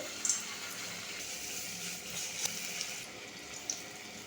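Steady hissing sizzle of bitter gourd leaf fritters frying in hot oil in a kadai, with a few soft pops and clicks, fairly quiet and continuous throughout.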